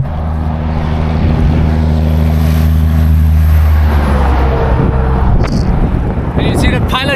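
A heavy oversized-load truck rumbles past on a highway with a low droning engine tone that swells and then fades, followed by passing road noise and brief clatter, under a speaking voice.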